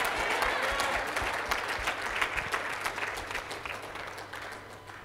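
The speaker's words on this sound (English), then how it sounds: "Let's clap for Jesus." Applause fills a church as the congregation claps during worship, a dense, lively burst that holds steady for about five seconds and gradually tapers.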